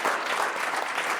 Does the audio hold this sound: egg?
no